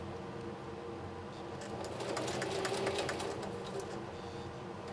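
Singer Heavy-Duty 4423 sewing machine working a tricky stitch slowly, a continuous close mechanical whir with rapid rhythmic needle ticking that swells slightly in the middle, no talking.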